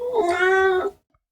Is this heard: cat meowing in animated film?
yes